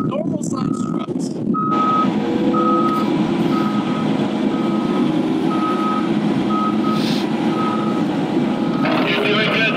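A dump truck in reverse sounds a loud, evenly spaced series of electronic backup beeps over a constant engine rumble, with brief hisses and clatter at the start and end.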